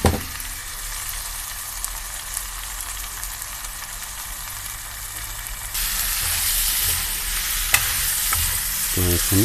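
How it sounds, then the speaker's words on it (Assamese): Mutton pieces fry and sizzle loudly in a hot pan with a steady hiss, joined by a stirring scrape near the end and a brighter, louder sizzle surge halfway through. "এতিয়া মই ইয়াতে মাংসখিনি দি দিম।"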